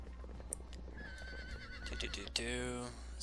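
A horse whinnies loudly near the end in the video game Sacred, its call falling in pitch, over steady game background ambience and a low hum.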